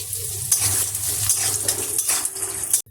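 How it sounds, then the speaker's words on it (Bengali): Peanuts frying in hot oil in a pan after dried red chillies, a steady close sizzle with light stirring clatter throughout. "এবারে ওই তেলে ভেজে নিচ্ছি চীনাবাদাম"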